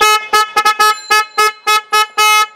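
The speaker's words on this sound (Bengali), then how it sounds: "এটা হচ্ছে বস্কো হর্ন" A Bosco pop-up motorcycle horn blasts close and loud in a rapid series of about ten short, bright honks, some clipped and some held slightly longer, with no talking.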